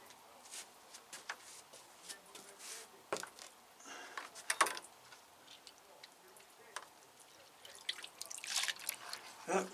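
Fresh water pours and drips into a pot, with scattered light drips, trickles and small clicks close by, quiet overall with a louder burst of splashing near the end and faint voice sounds.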